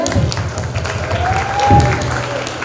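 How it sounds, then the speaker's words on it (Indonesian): Audience applause at a candidate's campaign speech event sounds as steady clapping from a crowd at moderate loudness, with some voices mixed in. "Tepuk tangan ya teman-teman."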